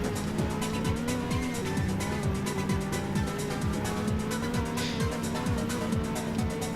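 A Dodge Charger race car in a racing video game roars along using nitro, its engine pitch repeatedly sweeping and dropping in quick shifts under a steady loud hum, with music-like tones behind it.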